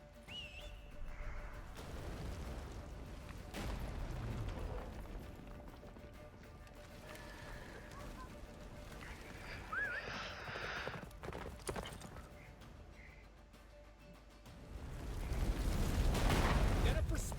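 Hooves of Roach, a horse in the video game Witcher 3: Wild Hunt, clip-clop at a gallop with whinnies and whistling wind amid game music, loudest at the end.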